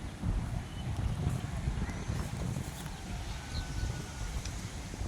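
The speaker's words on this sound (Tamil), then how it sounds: "காற்று மழை அடிக்குது." Gusty wind buffets the microphone beside a fishing pond as rain threatens, a continuous low rumbling roar with no clear breaks, fairly faint overall and heard without any talking.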